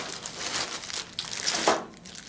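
A plastic zipper bag crinkles and rustles steadily while small parts are taken out during assembly of a Peanut i3 3D printer kit, with the sound loud and near.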